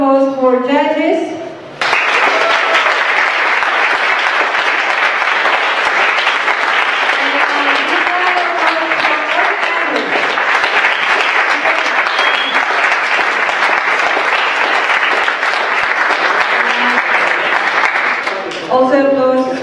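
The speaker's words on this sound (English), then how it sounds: "big round of applause for judges." A crowd at a Startup Weekend event in Zilina applauds the judges, a long, loud sustained burst of clapping that begins after a brief spoken line and fades out as a voice returns at the end.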